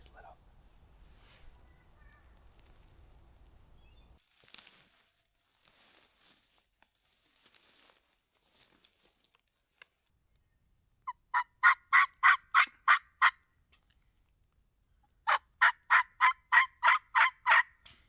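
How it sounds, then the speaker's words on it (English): A wild turkey gobbles in rapid rattling bursts in New York farm country, two loud volleys of about seven notes each, fairly close, after quieter rustling and faint sounds. "He's gobbling. He seems to be pretty close."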